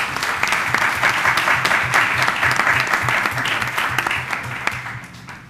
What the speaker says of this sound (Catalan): us prego, amb la felicitació al Marc, un bon aplaudiment per aquest èxit d'ell,